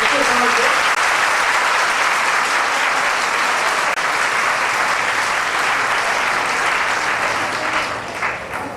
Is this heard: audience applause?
yes